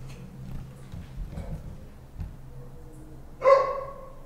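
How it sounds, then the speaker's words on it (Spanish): A dog barks once from a neighbouring house, a single fairly distant bark after a stretch of quiet background noise. "Ese perro claramente es de alguna casa vecina."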